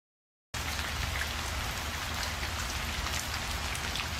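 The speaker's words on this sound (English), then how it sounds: "Oh, that's a rainy day." Steady, dense rain starts abruptly and keeps falling in an even, hissing wash with no voices or other sounds.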